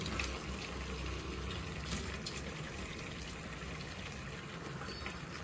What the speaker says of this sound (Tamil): இந்த ஜாரில் கொஞ்சம் தண்ணி ஊற்றினேன்